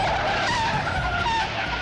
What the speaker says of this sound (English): A mammoth courier truck swerves to avoid the patrol car, but can't prevent triggering carnage